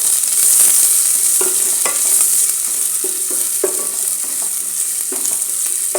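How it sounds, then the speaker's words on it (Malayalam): Chopped onion with cumin, urad dal and chana dal sizzles steadily in hot oil in a pan while a spoon stirs it, scraping and clinking at irregular intervals, close and with no voices. "നന്നായി ഇളക്കി കൊടുക്കുക."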